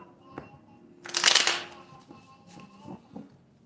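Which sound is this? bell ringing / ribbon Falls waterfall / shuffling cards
shuffling cards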